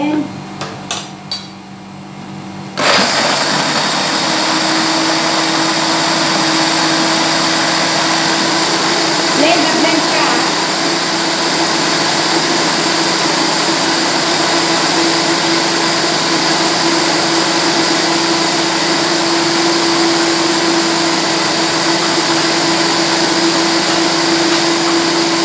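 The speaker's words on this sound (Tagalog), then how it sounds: "Then, i-blend natin siya ulit." A kitchen blender whirs loudly and continuously as it purees prawn curry, starting abruptly after a few seconds of quiet clatter and holding a steady high-pitched motor whine to the end.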